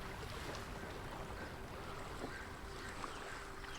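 Ocean water laps and washes gently below a high vantage point, a soft, continuous ambient wash with faint wind and no voices.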